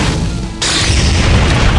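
Weapon firing and a blast in the mobile game Outerplane, a loud, dense boom that jumps in partway through and sustains as a roaring explosion for over a second.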